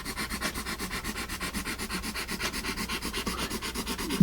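Vintage Eberhard Faber Public #3 pencil writing on paper, a steady dry scratching and rubbing of graphite in quick repeated strokes, close and fairly quiet, with no talking.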